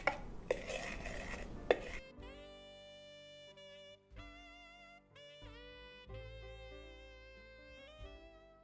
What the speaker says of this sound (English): we add the Swerve in the butter, we are going to go ahead and mix the 2